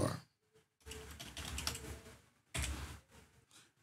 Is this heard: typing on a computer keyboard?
yes